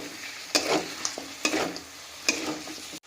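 Spice masala with salt being fried for a desi chicken curry, a low steady sizzle punctuated by three sharp stirring scrapes spaced about a second apart, close and with no speech.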